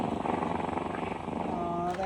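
A person imitates a cat's purr by breathing out through the mouth, a close, steady rhythmic rolling flutter lasting about two seconds, sounding voiced and slightly growly.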